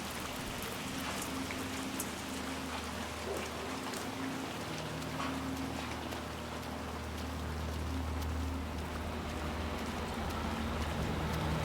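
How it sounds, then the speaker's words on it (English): Steady rainfall in the Chongqing level of the video game Hitman 3, a dense, moderate patter of drops on surfaces with a low ambient hum beneath, continuous and even with no voices. "Let's get you out of the rain, shall we?"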